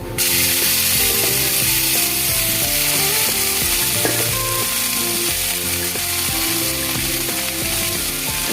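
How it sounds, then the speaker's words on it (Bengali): Amaranth greens going into oil with fried garlic and green chillies, giving a loud continuous sizzle close by, with repeated ratcheting scrapes and clacks of stirring throughout and no voices. "দেখুন রসুনটা ভাজা হয়ে গিয়েছে এবার আমি শাকটা দিয়ে দেবো"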